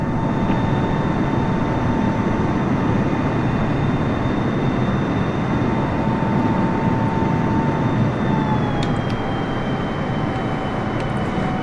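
A Boeing 747 in Microsoft Flight Simulator drones steadily from start to finish, a loud, even engine roar with sustained tonal whines that dip slightly in pitch near the end, and no talking over it.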